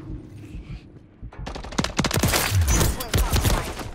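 Rapid automatic gunfire from Modern Warfare III, a Hardpoint match, starts after a quiet opening second and continues as dense, loud overlapping bursts, with low game rumble underneath.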